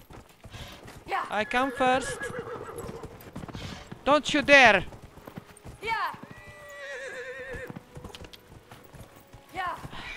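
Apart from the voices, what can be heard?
horse hooves and neighing in video game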